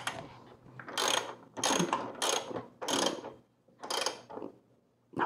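Ratchet wrench tightening bolts on a Yamaha R3 motorcycle, heard as several close, loud bursts of rapid clicking separated by short pauses, with no talking.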